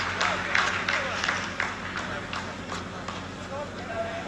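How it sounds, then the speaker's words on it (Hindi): Applause from scientists at mission control after the second phase of a Chandrayaan lunar landing sequence is completed: a dense, steady patter of clapping from a crowded room that continues under a commentator's talk. "आप इस तालियों के गड़गड़ाहट को सुन सकते हैं"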